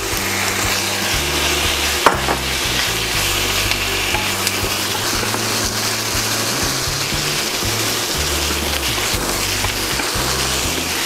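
Pork belly sizzles steadily in a hot pan with ginger, giving a continuous, fairly loud frying hiss with faint stirring scrapes and no talking.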